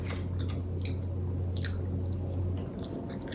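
Wingstop fries being chewed close to the mic at a mukbang meal, soft repeated bites and squishy mastication over a low steady hum, with no talking.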